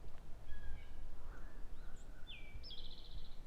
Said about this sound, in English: We're hearing birds everywhere